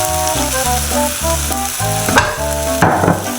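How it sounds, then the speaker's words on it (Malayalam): Ground gravy goes into a pan of soya beans and fries with a steady close sizzle, partly masked by constant background music, with a few louder bursts of crackle. "നമ്മൾ അരച്ച് വെച്ചേക്കണ ഗ്രേവി ഇതിനകത്തോട്ട് ഒഴിച്ചു കൊടുക്കുക."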